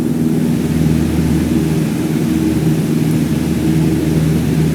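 Light aircraft engine in Microsoft Flight Simulator 2020 throttled back to 2,300 RPM in cruise, a steady, even propeller drone with airy noise, continuous and without talk.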